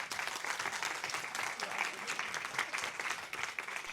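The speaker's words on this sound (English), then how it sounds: "Can we give our panellists a round of applause?" An audience applauds the panellists of a Building Social Value panel on construction and communities, with steady, dense clapping holding at an even level for the whole stretch and a faint murmur of voices underneath.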